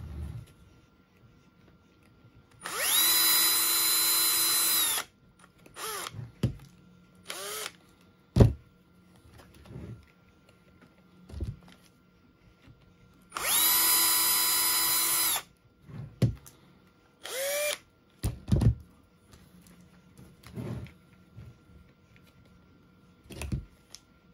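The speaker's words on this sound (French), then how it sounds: "il faut faire les 3 trous pour fixer les vis qui iront sur la bavette" A power drill bores three screw holes through a mounting template while fitting a PO13 Optima mudflap bracket: two loud, sustained high whines of a few seconds each, separated by clicks, clunks and handling knocks, with no talk.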